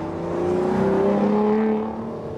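An Aston Martin sports car engine revs up and roars through its exhaust as a valve opens at 4,000 RPM, pitch rising then settling, loud and close with no voices.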